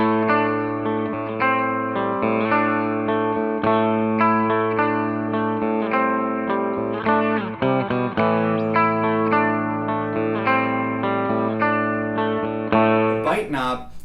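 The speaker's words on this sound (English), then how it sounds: "everything that you're hearing today is just my clean channel on my amplifier and with this on top of it" Electric guitar played through an Orange Getaway Driver overdrive pedal into an amp's clean channel, ringing out sustained, driven chords and notes with a thick, effected tone that runs steadily for the whole stretch, ending in a brief noisy swell.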